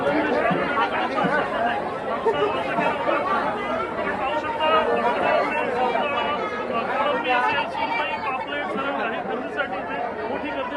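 Dense crowd chatter fills a busy fish market in Kudal, Sindhudurg, many overlapping voices talking and bargaining at a steady, close level throughout with no single voice standing out.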